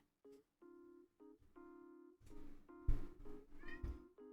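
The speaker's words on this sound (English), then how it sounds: "My cat is being a little douchebag." A pet cat meows repeatedly and insistently up close, drawn-out tonal cries rising into louder, rougher calls near the end, with no speech over them.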